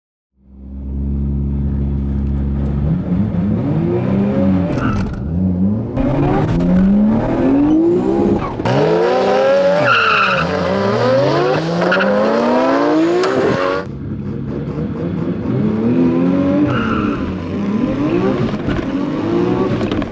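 Two Nissan Skyline GT-Rs, an R34 and an R32, drag race on an airstrip, engines revving hard through rising gear pulls with tires squealing, one car accelerating close and loud while shifts and swelling engine notes repeat over about twenty seconds.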